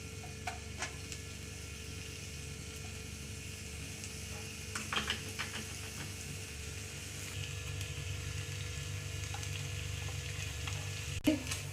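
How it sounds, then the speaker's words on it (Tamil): Grated cauliflower frying in a pan for stuffed chapati filling, a low, steady sizzle running throughout, broken by scattered scrapes and taps of a spoon against the pan and a sharp knock near the end, without talk. "இப்போ நம்ம வந்து இந்த அரைச்சி வச்சுருக்கிற காலிஃப்ளவரை அதில் போட்டுடலாம்."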